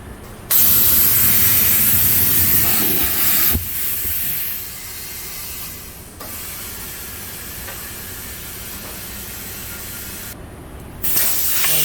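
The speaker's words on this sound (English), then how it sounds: "Now all you gotta do is air the tire up." Air hisses steadily as a Chevrolet Silverado 1500 tire is inflated after a flat repair, a broad continuous rush that drops slightly partway through and pauses briefly, close and loud with no talking.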